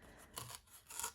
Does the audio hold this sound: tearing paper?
yes